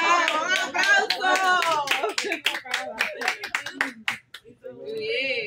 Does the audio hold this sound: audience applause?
yes